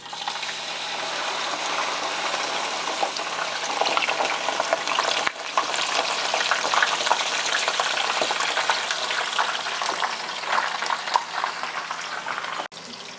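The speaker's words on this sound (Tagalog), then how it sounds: "Just be careful dahil medyo matalsik ang pagprito ng bangus." Marinated milkfish (daing na bangus) fries in hot oil, a close, steady crackling sizzle with spitting pops that continues unbroken throughout.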